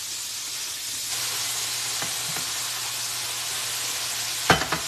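Pork chops frying in grease, a steady close sizzling hiss with a low hum underneath and a few soft clicks, then a brief louder clatter near the end.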